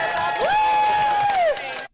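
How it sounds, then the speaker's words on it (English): A crowd cheers at a conference gathering, loud and sustained, with one voice holding a long rising then falling whoop above dense applause-like noise before it cuts off. "Don't cheer for that."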